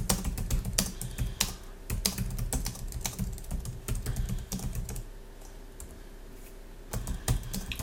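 Rapid clicking of a computer keyboard being typed on, in uneven bursts with a brief pause before resuming, close and fairly quiet.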